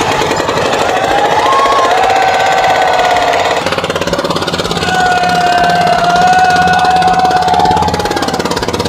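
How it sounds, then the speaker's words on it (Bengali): A double-engine wooden river boat on a calm Meghna river runs loud and steady, one diesel engine already chugging while the second joins in, its droning, knocking note shifting partway through; no talking. "আমাদের নৌকা ডাবল ইঞ্জিন, তো একটি ইঞ্জিন চালাচ্ছে, আরেকটি ইঞ্জিন এখন স্টার্ট দিবে"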